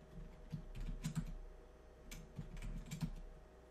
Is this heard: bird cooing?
no